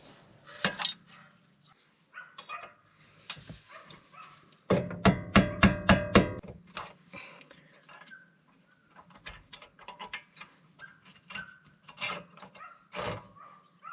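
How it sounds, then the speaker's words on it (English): Brake caliper pins on an Alfa Romeo Giulia QV are driven out with a tool and a hammer: a quick, close run of about eight sharp metallic taps with ringing tails, among scattered clinks and handling noise. "use any tool and a hammer to push the pins out"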